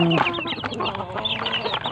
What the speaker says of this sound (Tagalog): Ito yung ating mga sisiw na native